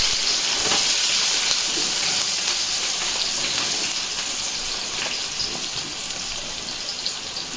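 Onions dropped into hot oil for chicken biryani give a steady, loud hissing sizzle, broad and continuous, easing slightly in level as it goes on with no talk over it.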